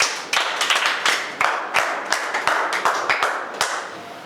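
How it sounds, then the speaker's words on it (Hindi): Audience clapping for a teacher at an announcement event for an SSC GD exam preparation batch: a ragged burst of many hands, sharp claps overlapping at an uneven rhythm, fairly close and steady throughout. "जोरदार तालियां देव सर के लिए।"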